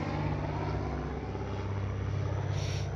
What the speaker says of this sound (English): Look at that airplane, guys.